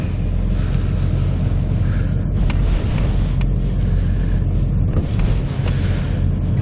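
A 2013 Ford F-250 pickup fitted with Firestone air helper springs drives over bumps on a test course, with loud continuous road rumble and wind buffeting, plus a few sharp knocks as the suspension hits bumps.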